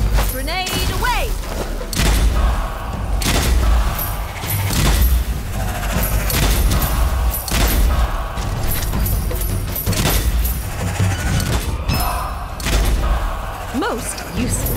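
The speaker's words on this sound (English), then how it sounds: "Grenade away!" Grenade blasts and thudding gunfire in the Strange Brigade video game, repeated loud booms over a dense battle mix with character voices calling out.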